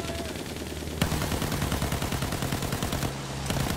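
Rapid automatic gunfire in a Battlefield 1 battle rattles on nonstop at moderate level, with sharp bursts of shots overlapping in a dense, continuous stream.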